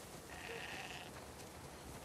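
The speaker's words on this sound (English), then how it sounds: "We definitely have way too many sheep." A sheep in the video game The Last of Us Part II gives a single faint, short bleat over a quiet steady background hiss, with no talk.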